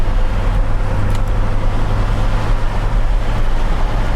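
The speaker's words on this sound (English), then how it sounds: "we're gonna go over some bumps here so you can see how the suspension feels" A turbocharged 1987 Dodge Daytona Shelby drives over bumps, its steady engine and road drone loud and close inside the cabin, with no talk.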